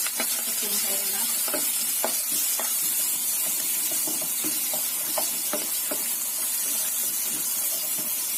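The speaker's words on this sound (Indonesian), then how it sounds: "Tumis bumbunya sampai matang ya" Spice paste stir-frying in hot oil in a pan, a steady close sizzle and hiss with scattered spatter pops and scraping stirs throughout, no voices.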